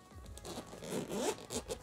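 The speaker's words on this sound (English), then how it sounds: "right here, we got a zipper for you guys to open up." The zipper on the waterproof case of a DJI Osmo Pocket 3 camera is pulled open in one close, raspy sweep with a short pause and a final tug, alone and without talk.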